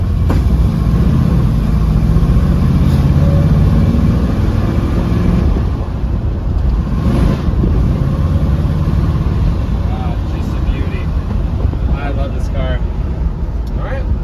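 A 1967 Chevrolet Chevelle's engine runs with a loud, steady low rumble close by, holding constant for the whole stretch with a slight dip midway, while a voice talks over it at points.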